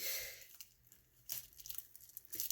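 Wrapped gift packages being opened, with crinkly wrapping paper being torn and crumpled in a few short bursts, close by and fairly quiet, no voices.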